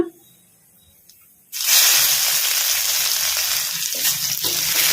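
After a short quiet stretch, crushed garlic drops into hot oil with crackling mustard and cumin seeds and erupts into a loud, close, continuous sizzle that holds steady to the end.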